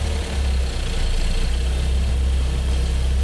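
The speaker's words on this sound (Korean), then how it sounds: "원격 시동 버튼을 누르시면 비상등이 점멸하며 시동이 걸리게 됩니다" A Hyundai car idling steadily after being started remotely with a smartphone digital key, a low continuous engine rumble heard close by with no talk.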